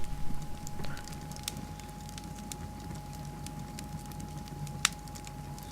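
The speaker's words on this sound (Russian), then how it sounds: "This fire is dying out." A dying fireplace fire in a Victorian study in a Sherlock Holmes game gives off faint, sparse crackles and pops over a steady low hum, with one sharper snap standing out near the end.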